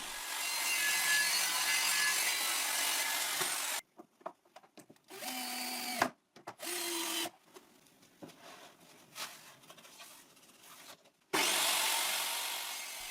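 A saw cuts through plywood boards with a steady rasping drone, then stops into a quieter stretch of short scrapes, knocks and brief tonal hums before the cutting resumes loudly near the end.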